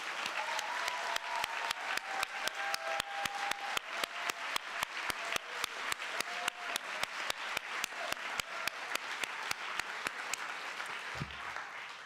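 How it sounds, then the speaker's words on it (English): Audience applause for graduates at a 2010 GRCC Learning Corner graduation ceremony, a long, steady stretch of dense clapping that stays loud throughout and cuts off near the end, with no talking. "So again, just a really final big round of applause for all of the graduates."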